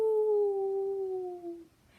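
A voice imitates a monster howl: one long, drawn-out wavering howl that slowly falls in pitch and fades after about a second and a half, heard alone and fairly quiet.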